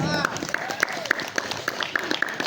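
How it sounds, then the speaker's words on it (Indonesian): An audience at a neighbourhood RT election gathering claps, a moderate patter of hands with distinct individual claps over a short stretch, mixed with murmuring voices. "Tepuk tangan."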